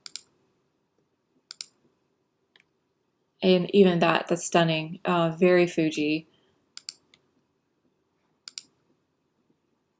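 A computer mouse clicks through Lightroom presets with sparse, sharp, quiet clicks spread across a silent room. A person speaks briefly in the middle, between the clicks.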